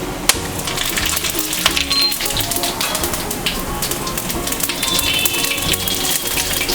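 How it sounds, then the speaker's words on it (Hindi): Bay leaf, black cardamom, cloves and cumin seeds roasting in hot oil, a dense, continuous crackling sizzle with scattered sharp pops, loud and close. "इसको थोड़ा भुनने देंगे।"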